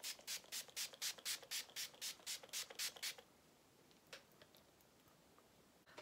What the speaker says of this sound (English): To set this look all in, I'm just going to use some setting spray.